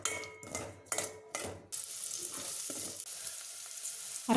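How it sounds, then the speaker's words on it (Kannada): Finely chopped onion drops into hot oil in a pan, a few clattering stirs and knocks of a spoon against the pan first, then a steady bright sizzle carries on alone, close and fairly loud. "ಆಯಿಲ್ ಹಾಕ್ಕೊಂಡು ಒಂದು ಈರುಳ್ಳಿಯನ್ನು ಹಾಕ್ಕೊತಾ ಇದ್ದೀನಿ. ಚಿಕ್ಕದಾಗಿ ಕಟ್ ಮಾಡ್ಕೊಂಡಿರೋ ಅಂಥ ಈರುಳ್ಳಿ"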